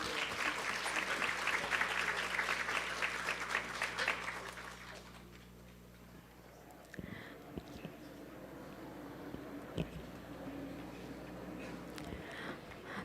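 Audience applause at a parents' education seminar, fairly faint and distant clapping for several seconds that dies away, followed by quiet room noise and a few knocks.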